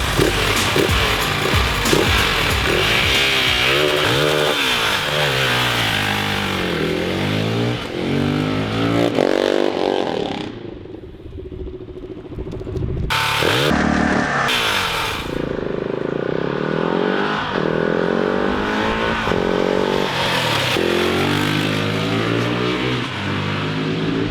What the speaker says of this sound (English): It's the original exhaust, but no talking, everybody heard it before, so let's test it